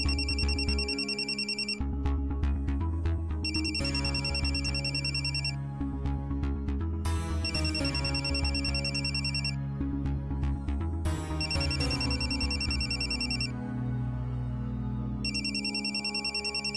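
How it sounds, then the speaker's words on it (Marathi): A phone rings with an incoming call: a high electronic ringtone sounds in repeated bursts with short pauses between them, over steady background music. "जरा घरून फोन आलाय."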